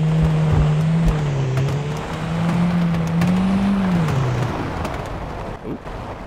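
A car engine in the video game Beware drones steadily with a low, slightly wavering pitch that sags and rises as the car drives, loud and continuous.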